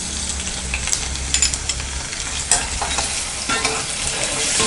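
Onions with ginger garlic paste fry and get stirred in a pan for a yam poriyal, a steady close sizzle with scraping spatula strokes throughout and no talk.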